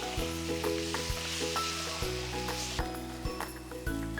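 Duck roast with sliced ginger and garlic fries on a high flame, giving a steady close sizzle broken by periodic stirring knocks and clatters from the pan.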